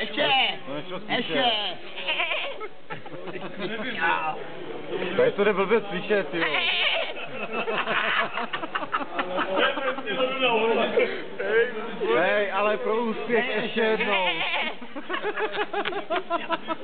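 Goats bleat repeatedly through the clip, mixed under constant loud talking and laughter from several men nearby.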